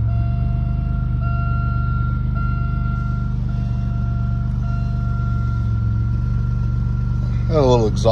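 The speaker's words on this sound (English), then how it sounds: "A little exhaust leak." A 2002 Buick Regal LS engine with a small exhaust leak idles with a steady low rumble throughout, a warning chime tone under it, and a voice speaks briefly near the end.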